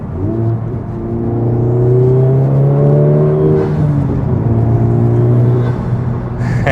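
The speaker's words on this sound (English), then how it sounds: "if I go into the R mode, that will automatically turn on the fake engine sounds" A Honda Civic Type R running in R mode, with artificial engine sound piped into the cabin over a full aftermarket exhaust, revs up in a steady, rising droning note that holds loud and close for several seconds before easing off.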